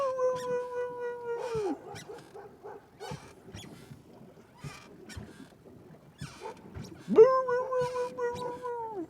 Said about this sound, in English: There's some dag-blasted dog barking at me.